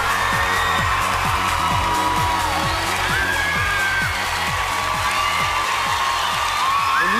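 A large live television audience applauds and cheers after a singer performs a song on American Idol, a broad continuous roar of clapping and whoops with rising shouts, and a low rhythmic thumping running beneath it.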